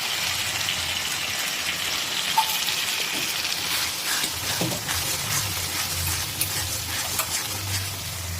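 Tomatoes and fish are stirred in a sizzling frying pan, with steady frying hiss and occasional scraping and clinking of the spoon throughout, close and clear with no one talking.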